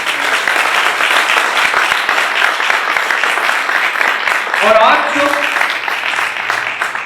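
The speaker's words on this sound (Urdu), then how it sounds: "آئیے زوردار تالیاں خدا کے لیے" Loud, dense applause from a church congregation during an evangelical service, sustained throughout with a voice speaking over it partway through.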